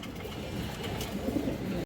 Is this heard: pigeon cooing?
yes